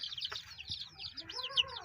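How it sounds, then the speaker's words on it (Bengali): High, rapid peeping of many young layer chicken chicks, close and continuous, with a brief soft cluck in the middle. "এ দেখুন এগুলো লেয়ার মুরগি বাচ্চা"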